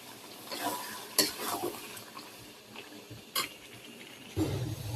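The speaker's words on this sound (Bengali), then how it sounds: "তো তরকারি প্রায় কষানো শেষ।" Curry is sautéed and stirred in a pan over the stove, with quiet sizzling and intermittent spoon scrapes and clinks against the pan at irregular intervals.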